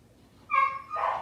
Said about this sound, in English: Oh, I hear puppies in the background.